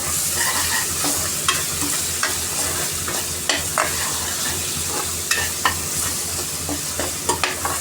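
Ginger garlic paste fries in a pan for mutton curry, sizzling steadily and fairly close. Frequent scraping strokes of a spatula run through it in an uneven rhythm.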